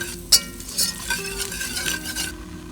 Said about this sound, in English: Whisk it in and cook it for a couple of minutes.